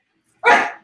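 A foster puppy lets out a single short, sharp bark, close and loud, following a moment of silence.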